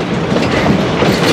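Cumbres and Toltec scenic railroad train rolling on rails near the Colorado–New Mexico line, a loud close rattling clatter of wheels over track, continuous with no talk.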